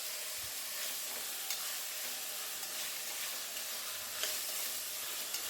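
Peas, carrot and beans cook in a pan for vegetable biryani, giving a soft, steady sizzle and hiss with an occasional faint stir, quiet and without talk.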